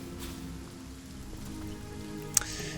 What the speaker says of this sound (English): The game having to render all the rain.